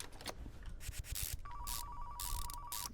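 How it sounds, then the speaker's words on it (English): Electronic telephone ringing in the car-repair game Car Mechanic Simulator 2015: a steady, sustained ring tone of about a second and a half, heard over scraping, sanding-like workshop sounds and thuds. "And we keep getting some phone calls."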